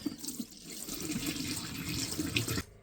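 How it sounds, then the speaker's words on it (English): Antifreeze poured down an RV drain while winterizing: a continuous splashing gurgle of liquid running into the drain, fairly close and steady, then cutting off abruptly at the end. "Pour some down the drain here."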